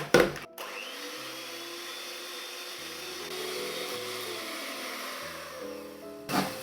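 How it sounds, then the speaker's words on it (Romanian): An electric mixer whirs steadily while whipping egg whites with a level teaspoon of salt into foam, its motor pitch shifting slightly as it runs, bracketed by short clattering knocks at the start and end. "Peste albușuri am pus și puțină sare, o linguriță rasă cu sare și le batem spumă"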